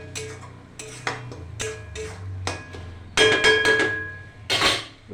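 Taro paste being stirred in a pan, with a spoon scraping and clinking against the metal in a series of short, distinct strokes, fairly close and with no talk.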